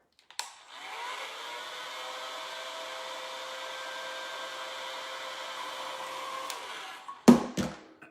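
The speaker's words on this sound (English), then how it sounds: "I'm gonna blow dry it one more time" A hair dryer blowing on hair runs as a steady, even whir for about seven seconds, ending with a click and a few handling knocks as it is switched off and set down.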